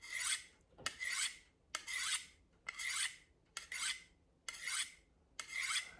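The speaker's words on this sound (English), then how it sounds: "I'm just gonna use this little Sharpmaker stone. Any ceramic stone or a finer stone would work." A knife blade is drawn across a Spyderco Sharpmaker ceramic stone in seven even, rasping strokes, each a short scraping sweep with brief pauses between, close and clear with no talk.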